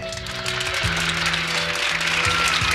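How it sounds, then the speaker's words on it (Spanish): Steady applause from a concert audience greets the bass player, a dense wash of clapping filling the hall throughout, with sustained tones from the band ringing underneath. "Yo para ellos pido un fuerte y cariñoso aplauso de amigos"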